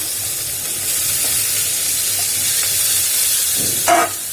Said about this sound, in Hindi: आ एठी मु किछि पियाज को काटी के रखिबी, ताकू हम फ्राई कर दबा